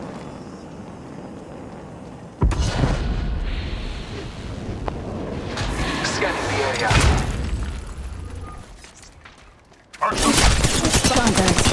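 Gunfire erupts in the battle royale game Apex Legends, with loud sudden bursts and booming volleys at intervals, mixed with in-game voice callouts and a person talking.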